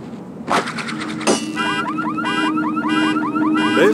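Car siren in the Batman Begins video game on PlayStation 2: a loud, rapidly warbling electronic wail that repeats in quick rising sweeps after a couple of sharp bangs, over a steady low engine drone.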